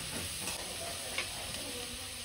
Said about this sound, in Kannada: ಆಮೇಲೆ ಕರಿಬೇವಿನ ಸೊಪ್ಪು ಹಾಕ್ಕೊಳ್ಳಿ ಸ್ವಲ್ಪ, ಅದನ್ನ ಚೆನ್ನಾಗಿ ಫ್ರೈ ಮಾಡ್ಕೊಳ್ಳಿ.